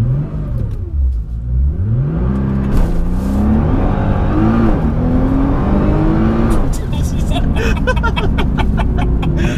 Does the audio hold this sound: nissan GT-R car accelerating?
yes